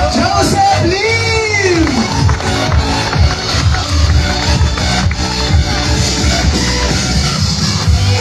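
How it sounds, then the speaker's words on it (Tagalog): An audience at a distributor orientation in a tower office breaks into loud applause with cheering, whoops and shouts. One drawn-out bellowing cry rises above the crowd, which stays dense and sustained throughout. "milyong-milyong palakpak para kay Mentor Joseph Lim!"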